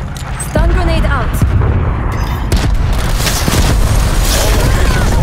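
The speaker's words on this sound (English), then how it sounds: "Stun grenade out." Stun grenade goes off in a military shooter game with a heavy boom, followed by loud rumbling blasts and scattered gunfire, while radio-style voices talk over the action.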